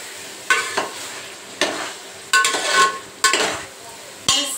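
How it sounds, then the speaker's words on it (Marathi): Chicken being tempered in a pan for biryani, a sizzle underneath repeated bursts of stirring and scraping that come in uneven strokes, close and fairly loud. "बस आता चिकनला फोडणी दिली आहे"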